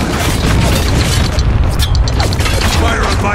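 Mortar fire and blasts in the Spec Ops: The Line video game, a continuous loud rumbling barrage of booms and debris, with a voice talking briefly in the mix.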